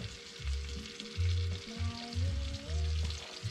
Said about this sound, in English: And then we're supposed to let this simmer.